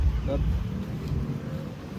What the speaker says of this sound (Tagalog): Kasi medyo malakas ang hangin dito.